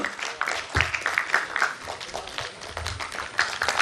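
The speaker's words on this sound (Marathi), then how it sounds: "आपण फक्त टाळ्या जरी वाजवले तरी पुष्कळ आहे आमच्यासाठी दाद द्या प्रतिसाद द्या" Audience applause at a state-level community event held in Pune, a dense continuous wash of clapping lasting a few seconds, fairly steady with small swells and a couple of louder bursts.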